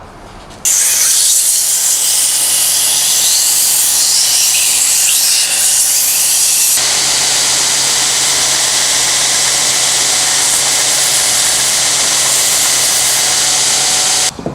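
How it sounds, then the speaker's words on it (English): A belt sander runs loudly and continuously close by, a harsh steady hissing grind as it removes waste wood from a tenon, cutting off abruptly at the end. "I'm just going to quickly remove this on the belt sander."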